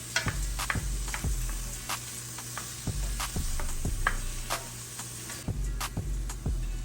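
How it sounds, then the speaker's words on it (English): Vegetables sauté in oil in a skillet with a steady bright sizzle, punctuated by regular sharp taps and scrapes of a utensil against the pan at roughly one-second intervals, close and without speech. "Now let's put some oil in our skillet and saute our veggies"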